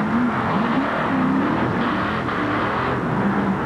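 A Ford Bigfoot monster truck engine roars steadily at a 1987 indoor racing event in Cleveland, a loud continuous drone with rising and falling pitch as it pushes toward the finish.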